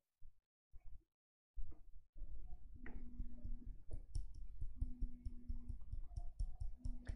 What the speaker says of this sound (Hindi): अब आप इस पर क्लिक करें।